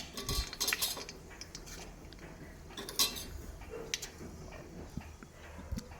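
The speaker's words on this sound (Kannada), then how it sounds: "ಸಾಸಿವೆ ಈ ಥರ ಸಿಡಿಯೋಕ್ಕೆ ಸ್ಟಾರ್ಟ್ ಆದಾಗ ನಾನು ಜೀರಿಗೆನ ಸೇರಿಸ್ಕೊತೀನಿ" Mustard seeds splutter and crackle in hot oil for a mint rice tempering, with irregular sharp pops and clinks over a low, continuous sizzle, near and fairly quiet.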